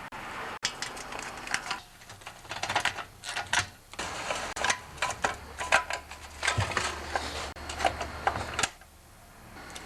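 Small 5/16 bolts being tightened by hand on the recoil starter of a Briggs 5HP engine, giving close irregular metallic clicks, ratcheting and rattling of parts throughout.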